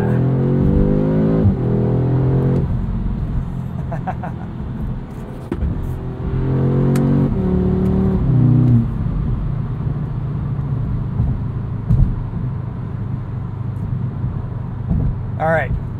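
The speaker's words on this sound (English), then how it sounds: "Launch control start into a corner?" A 2022 Audi S3 pulls hard from a launch control start, the engine note climbing through rising revs with a gear change, heard from inside the cabin with a low road rumble beneath.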